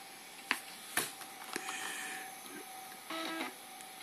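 A Dell Latitude XPi laptop, formatted after running Windows 98, powers up with a few sharp clicks and taps followed by a steady whine and short beeping tones, close and fairly quiet.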